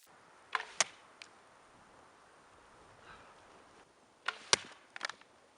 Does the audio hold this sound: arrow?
yes